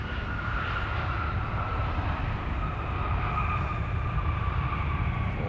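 Airliner at Minneapolis–St. Paul airport after landing, a steady broad engine rumble with a faint whining tone, moderately distant and continuous, with no talking.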